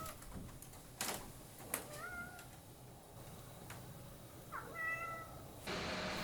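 A hostel cat in Patagonia meows repeatedly, several short rising cries separated by pauses, fairly close, alongside faint knocks and room ambience with no talking.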